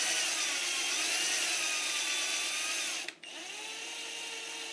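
A hand hacksaw cuts through a wooden model airplane propeller blank, a steady continuous rasping that stays close and loud before a brief break near the end, then resumes more quietly.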